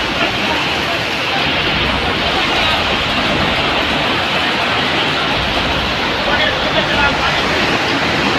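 Floodwater rushes loudly and steadily after heavy rain in Junagadh, Gujarat, a dense, unbroken roar of churning water that fills the whole scene without a pause.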